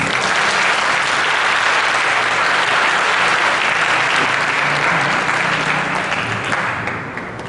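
Loud, dense clapping from a crowd of students at an engineering and computing technology forum, steady and sustained for several seconds before easing off at the end.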